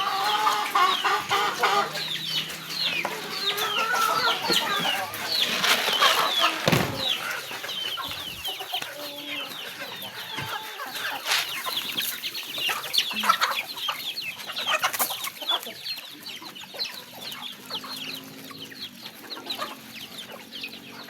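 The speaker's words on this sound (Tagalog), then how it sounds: "May mga manok pa guys" Chickens cluck close by, with overlapping clucks and calls that keep going throughout, mixed with a few sharper cries. No one speaks.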